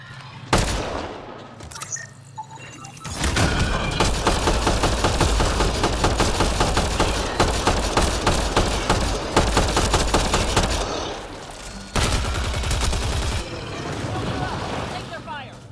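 Sustained enemy gunfire in the sci-fi shooter Mass Effect Andromeda, dense rapid bursts of shots running steadily for most of the stretch with a brief lull near the end before firing resumes.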